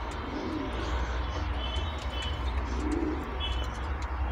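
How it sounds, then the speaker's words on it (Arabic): Domestic homing pigeons cooing in a balcony loft, a soft continuous murmur of low coos from several birds close by, with no talking. "شايفين الحمام مسافاته عاملة ازاي؟"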